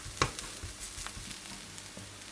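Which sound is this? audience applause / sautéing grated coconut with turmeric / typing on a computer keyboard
sautéing grated coconut with turmeric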